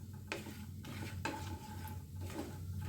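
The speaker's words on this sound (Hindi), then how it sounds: "बस अब इन सबको अच्छे से रोस्ट कर लेंगे।" Hing and cumin roasting in a pan with a little oil for a restaurant-style paneer butter masala, giving a soft steady sizzle broken by a few sharp scrapes and clinks of a spoon against the pan.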